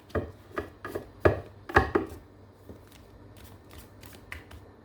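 Tarot cards being handled and shuffled after one slips and drops, giving a series of crisp slaps and riffles close by, loud at first and then thinning to lighter taps, with no talking.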